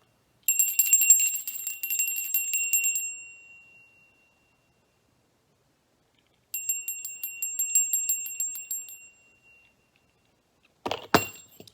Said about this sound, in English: I forgot to ring my bell, so cover your ears if this might be too loud.